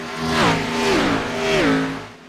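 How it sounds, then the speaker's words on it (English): ANZCAR Thunder race cars sweep past one after another on the Homestead circuit, their engines rising and falling in pitch as each roars by at moderate distance, with no voices. "When I hear the cars coming through"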